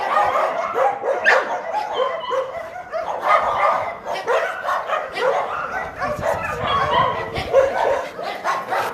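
Several dogs bark and yip continuously at a dog shelter, overlapping in a busy, echoing chorus with occasional whimpers, fairly close and loud throughout.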